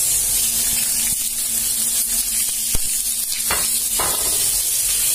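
Onion fries in a hot pan alongside beef adobo, a steady, loud sizzle with crackling spatters. Occasional clicks and scrapes of stirring run through it, and no one speaks.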